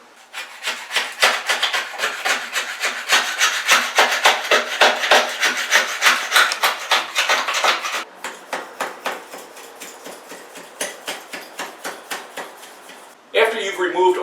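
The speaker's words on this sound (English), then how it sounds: "I'm going to be using a single edge razor blade and Red Devil's caulk remover." A single-edge razor blade scrapes caulk off shower tiles in quick rhythmic rasping strokes, close and loud, repeating steadily for most of the clip, with a brief pause before the scraping resumes.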